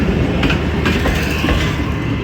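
A passenger train, the Jaffar Express 48 Down, rolls on at Attock City Junction with a close, continuous rumble and rhythmic wheel clatter over the rail joints.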